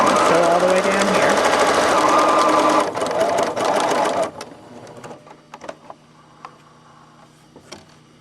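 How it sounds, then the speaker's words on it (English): A sewing machine stitches a straight seam with a rapid, steady mechanical chatter for about four seconds, then stops, leaving soft handling clicks and taps, with a person talking over the stitching. "So I back stitched at the beginning, stitched all the way along"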